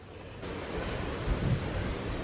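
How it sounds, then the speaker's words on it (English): Steady wind roars and hisses without a break in a cemetery surrounded by trees, a broad rushing noise that grows slightly louder partway through. "It's awful windy."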